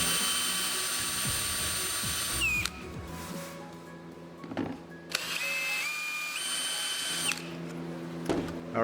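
A power drill bores into the side of a plastic worm bin, its motor whining loudly and steadily, then stopping and restarting, with the pitch shifting as the bit cuts through the plastic.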